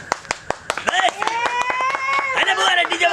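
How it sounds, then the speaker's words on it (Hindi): People at a wedding celebration clap in sharp, distinct beats close by, the rhythm loosening as voices chatter and call out loudly over it. "ले ले चलो एक बार ताली अपने संग बीच में ले हैं एकदम"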